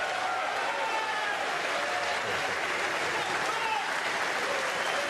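A snooker crowd at Alexandra Palace in London applauds during the Masters final, a dense, continuous wash of clapping from a large arena audience, even and loud throughout.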